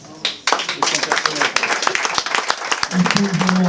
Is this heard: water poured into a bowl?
no